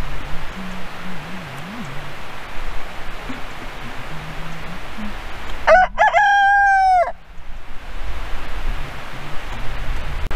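On a farm in late winter, a rooster lets out one loud, close cock-a-doodle-doo over steady background noise, with chickens faintly clucking before and after.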